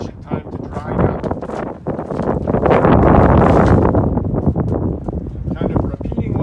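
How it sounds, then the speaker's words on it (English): Gusty wind blows outdoors beside a 2007 Triple E Topaz 305 RLXL RV, a steady loud rushing roar of buffeting noise across the microphone that swells in the middle and never lets up. "the wind's picking up a little bit"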